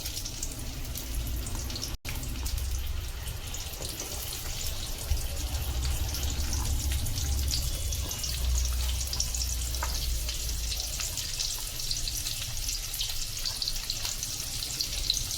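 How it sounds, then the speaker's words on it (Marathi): Onion, ginger, garlic and chili paste roasting in hot oil for a homemade spicy mutton gravy, giving a steady close sizzle and crackle that runs the whole time, with a brief dip near the start and no talking. "आपल्याला वाटण याच्यामध्ये भाजून घ्यायचं आहे"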